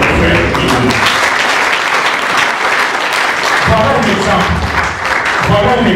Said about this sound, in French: je voudrais vous demander de remercier par vos applaudissements ces gestes de nos frères du Roum